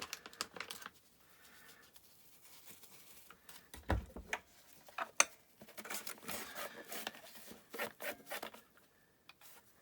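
A small tool scrapes and picks crusty corrosion out of an early-1980s Hitachi KH-438E MW/FM radio in faint, irregular clicks and scratches close by, separated by quiet gaps.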